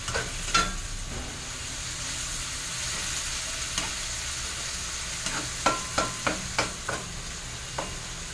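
Sardines fry in a pan with a constant sizzle and a series of sharp pops and spatters, several clustered close together toward the end, with no talking.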